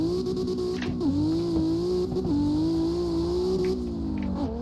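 A 900-horsepower drift car accelerates hard in second gear, its loud engine climbing steadily in a continuous rising roar with brief dips at the shifts, close and without voices.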